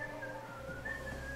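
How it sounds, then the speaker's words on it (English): A person whistles a steady sustained tone that slides up and down, clear and close, with no talking. "It would help if no one was whistling."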